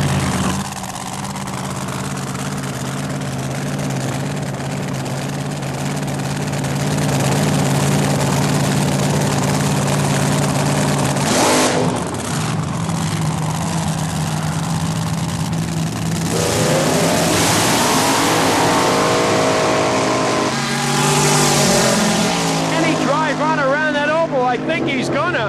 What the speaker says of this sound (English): car powered by another big block supercharged fuel-injected alcohol-burning Chevy